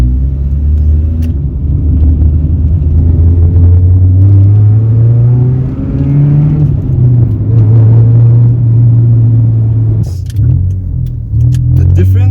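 A Honda Civic EG with a B18C2 engine and an upgraded clutch line drives off as the clutch engages, a loud, close engine drone that climbs and settles in pitch, with brief clinks near the end.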